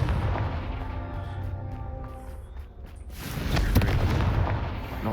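A Confringo spell explosion in the Hogwarts Legacy video game, heard as a deep, loud booming burst with a rumbling tail over a dense game background, with no talk.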